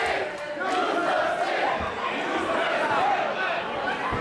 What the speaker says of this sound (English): And the crowd asking for Ryan to use his stick against Bryson Blade